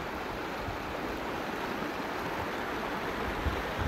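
Waghur river water near Neri, Jalgaon flows in a steady, broadband rush that stays even and fairly close throughout, with no voices.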